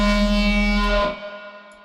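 A distorted synth chord drenched in wide plate reverb with a short pre-delay, loud and sustained, then cut off so the dense reverb tail rings and fades over the last second.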